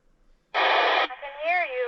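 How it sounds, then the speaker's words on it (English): A Talkpod A36 Plus GMRS radio bursts out a loud block of harsh broadband static for about half a second, then a distorted, warbling voice comes through the crackle. "if you push and hold that static button, you should be able to hear my voice and all that static"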